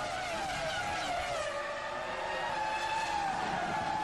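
Two Ferrari Formula 1 cars from the 2002 season accelerate off the line at a race start, a steady high-pitched engine whine with rising tones heard from a distance, continuous and fairly faint.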